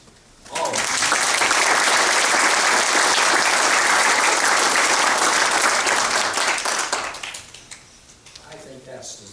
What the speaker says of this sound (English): This group that's been putting this together really needs a round of applause, I think.